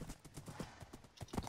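Horse hooves clip-clop in Minecraft, quick and steady over a short run, fairly faint and with no speech over them.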